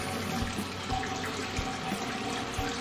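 A hot and cold mixer tap in a staff room runs steadily, a continuous hissing stream of water into a sink with no pauses.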